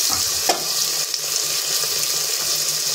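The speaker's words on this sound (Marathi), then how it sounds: "त्याच्यामध्ये टोमॅटो टाकून घेऊयात आणि हे पण आपल्याला परतून घ्यायचे आहे" Onion and tomato sautéing in a pan for khichdi, giving a close, steady sizzle and crackle with a few soft stirring scrapes, loud and continuous without any talking.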